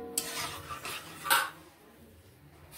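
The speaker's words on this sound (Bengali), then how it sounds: "এবার এখানে ভালোভাবে লেবুর রস মিশিয়ে নিচ্ছি এর সঙ্গে।" A spoon stirring lemon juice into mango leather chutney in a metal pot, with close scraping and clinking strokes in short bursts that fade to quiet near the end. No voices are heard.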